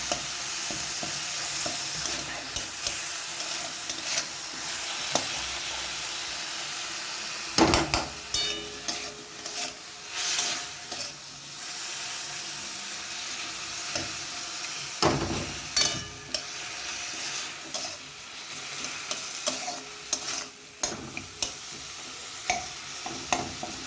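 Tomatoes with salt cook in a pan for a tangy chutney, giving a soft steady sizzle punctuated by irregular spoon scrapes and clanks against the pan, some louder knocks standing out, and no one speaking.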